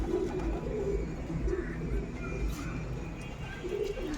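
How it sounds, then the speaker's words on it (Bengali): Pigeons in a small loft give low, muffled cooing phrases under a steady noisy background, quiet and somewhat masked throughout. "এই যে আমার এই কবুতরগুলো দেখছেন"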